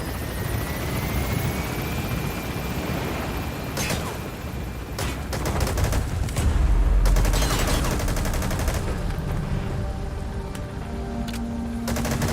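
Helicopter rotor drone from the Speed Quad extraction chopper lifting off from a landing zone in Metal Gear Solid V: The Phantom Pain, a steady loud whir with bursts of gunfire layered over it partway through.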